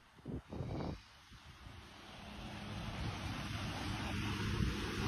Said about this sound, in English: Rewatching this video I took of the ocean